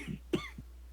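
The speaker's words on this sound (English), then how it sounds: "I'm coughing." A single short cough, close and fairly quiet, followed by a faint smaller throat sound against a low steady hum.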